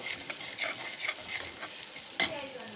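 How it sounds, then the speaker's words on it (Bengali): Ginger sautéing with spices in a pan for a vegetarian papaya dish, soft continuous sizzle with repeated light scrapes of a spoon and one sharper clack near the end, quiet and close, no voices. "আদাটা এই মশলার সাথে একটু কষিয়ে নেব।"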